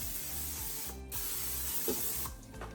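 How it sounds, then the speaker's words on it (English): Short hissing bursts of an aerosol cooking spray can, close by, with a brief pause between sprays and a faint mechanical hum underneath. "so I'm just gonna spray mine with some cooking spray."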